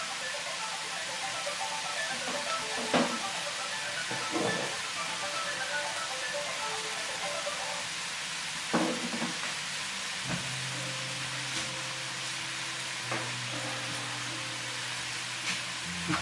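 Pork neck fries in a kazan with a steady, close sizzle and hiss, broken by a few soft knocks and clicks, and no one speaks.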